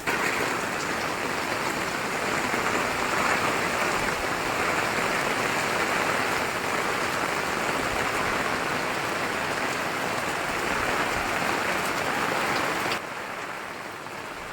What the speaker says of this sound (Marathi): पहिला पाऊस पुण्यातला पडला आणि चांगला मोठा धो पाऊस पडला